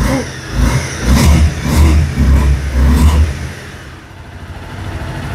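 A used sports motorcycle for sale at a showroom revs close by in several loud surging throttle blips, then settles back to a lower idle.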